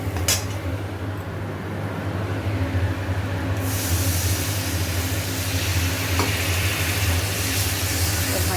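Water splashes into turmeric, chili and cumin powders, salt and a little sugar frying in hot oil; after a low simmering hum, a sudden loud, steady sizzle bursts up partway through and keeps going.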